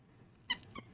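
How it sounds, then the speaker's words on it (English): A squeaky stuffed dog toy from a subscription box gives two quick squeaks, a sharp close one followed by a softer one, in an otherwise quiet room. "Oh my god, he squeaks? Oh my god, it's a dog toy."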